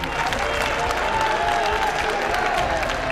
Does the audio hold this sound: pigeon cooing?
no